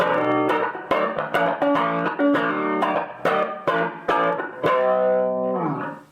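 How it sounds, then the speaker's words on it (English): A distortion effect from a Behringer Virtualizer effects unit: a gritty electric instrument plays a punchy sequence of sharp, buzzy chords with quick attacks, ending on a longer sustained note that fades out. "This distortion is quite nice."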